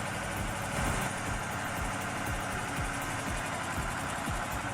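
A tractor engine strains steadily while pulling a giant tree stump and its roots out of the ground, a dense, continuous rumbling roar with no pauses.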